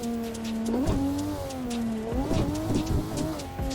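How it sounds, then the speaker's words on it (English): Simulated car engine in Assetto Corsa revving hard during a clutch kick while drifting, loud and close, with pitch surging up and down repeatedly and faint tire squeal underneath. "So this is a clutch kick."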